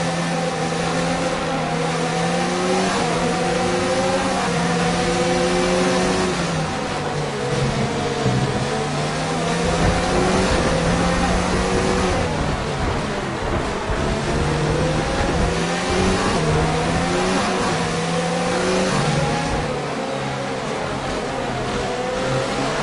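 A Formula 1 race car's engine in F1 2019, its internal combustion engine badly worn, drones steadily at high revs, holding a continuous loud whine with slight pitch rises and dips throughout.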